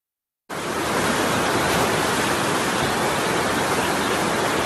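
Torrential floodwater rushes through towns in Guangxi and Guangdong, China, a dense, steady roar that cuts in abruptly and holds loud and continuous with no letup.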